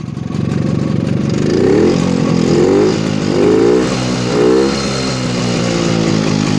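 A 1953 Jawa Perak 250 Type 11 motorcycle engine with a clogged air intake revs up and down repeatedly, loud and close, with a rough, throaty mechanical clatter throughout.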